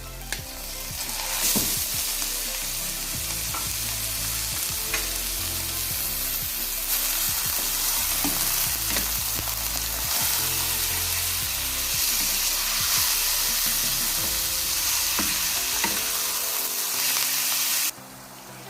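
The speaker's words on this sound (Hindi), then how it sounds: "कीमे को अब हम 3 मिनट के लिए भून लेंगे अच्छे से।" Minced meat sizzles loudly in a pan for a keema-stuffed bitter gourd dish, with a constant hissing fry broken by scraping stirs throughout, before the sizzle softens near the end.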